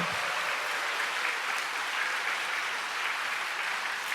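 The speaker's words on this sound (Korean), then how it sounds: "우리 목사님께 한번 큰 격려의 박수 해주시면 좋겠어요" A church congregation at a summer revival gathering gives the pastor a round of applause, producing a dense, even wash of clapping that holds steady and moderately distant for the whole stretch.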